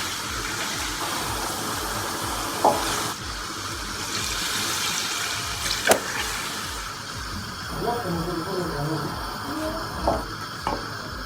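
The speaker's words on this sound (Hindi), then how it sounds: "ये मैं 2 बॉल पानी डाल रही हूँ" Water poured into chicken korma cooking in a pan, a steady hissing sizzle and bubbling with a few sharp clinks of a spoon or pot, moderately close and continuous.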